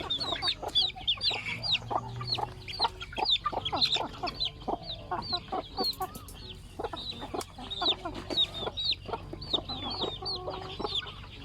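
A Silkie hen clucking in short, repeated bursts while preparing her nest to lay, close and fairly loud, with a steady run of calls and no talking.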